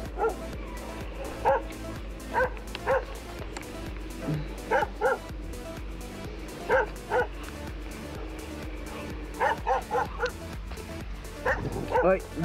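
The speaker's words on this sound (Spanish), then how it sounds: "Los perritos." Dogs bark and yip repeatedly at close range in irregular bursts over a steady background rumble, with some whimpering and people talking.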